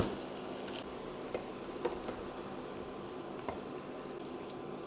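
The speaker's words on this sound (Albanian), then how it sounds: "edhe i hedh ujin e nxehtë" Hot water pours steadily into a cooking pot during preparation of a spinach burani dish, a faint, continuous wash of liquid with a few small splashes.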